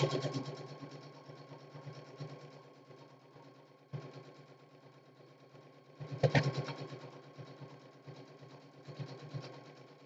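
A sewing machine stitching steadily up close, its rapid mechanical whirring running continuously with brief slowdowns and a louder burst partway through.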